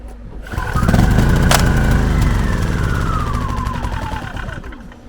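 Dnipro-M economical petrol generator pulling into life after priming, its engine catching and then running loud and steady, with the revs sagging gradually toward the end.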